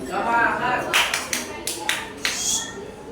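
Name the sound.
rhythmic group clapping, tepuk semangat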